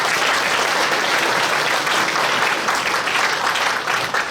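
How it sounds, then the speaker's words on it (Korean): Loud, sustained applause from a large crowd at a Christian council general assembly, dense and continuous clapping filling the whole stretch. "다시 한번 박수 한번 보내주세요"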